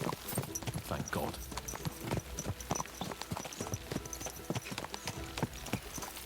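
Several horses ridden hard in Kingdom Come: Deliverance 2 clatter along with dense, rapid clip-clopping hooves, a steady galloping rhythm close and prominent, with some soft voice underneath.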